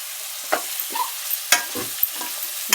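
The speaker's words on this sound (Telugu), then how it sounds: "ఫ్రై అయిన తర్వాత ఆనియన్స్ వెజిటేబుల్స్ అన్నీ వేసుకొని ఫ్రై చేసుకోవాలి." Onions and mixed vegetables fry for veg biryani, with a low sizzle under a few sharp, separate stirring scrapes and knocks of a spoon in the pan, close by.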